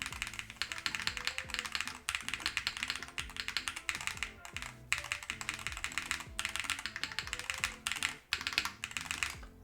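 Rapid, continuous typing on a mechanical keyboard with Hall effect switches, close and crisp, with dense clacking keystrokes and brief pauses, no voices.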